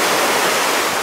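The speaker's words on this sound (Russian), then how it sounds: "волны маленькие, то есть очень классно" Small sea waves wash onto a busy hotel beach in Alanya, Turkey, a steady broadband hiss of surf close by with no distinct breaks, heard alone without talk.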